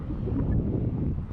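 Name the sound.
wind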